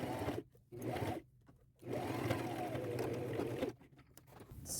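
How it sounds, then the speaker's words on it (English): A sewing machine stitches a strap onto a fabric and lace tote bag, running in short bursts, then a longer steady whir with brief pauses between runs, close and alone. "Now I will take both these to my machine, and I will sew."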